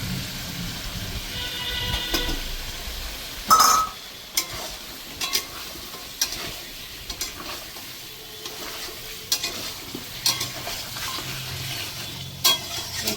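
Large onion pieces fry with chicken for a kadai, giving a moderate steady sizzle punctuated by sharp clinks and scrapes of a utensil against the pan at irregular intervals.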